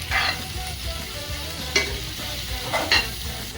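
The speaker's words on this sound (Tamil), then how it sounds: "அதுக்கப்புறம் வேக வச்ச பேபி பொட்டேட்டோவை அதுக்குள்ளே போட்டுக்கலாம்." Boiled baby potatoes stirred in a pan of sizzling butter, a steady frying hiss under several distinct scraping stirs of the spoon, close and fairly loud with no voices.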